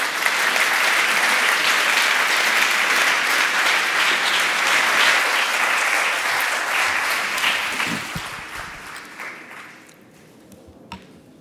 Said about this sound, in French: je vous invite à applaudir André Comte-Sponville